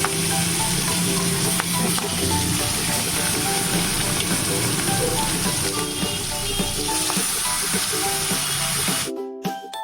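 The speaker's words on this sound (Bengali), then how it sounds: "এবারে আমি কড়াইতে দিয়ে দেবো, যেটা আমি 15 মিনিট আগে ম্যারিনেট করে রেখেছি মাছটা দিয়ে দেবো।" Marinated catla fish fries in mustard oil in a wok over a medium gas flame, giving a loud, dense, continuous sizzle that carries on without a break before cutting off abruptly at the very end.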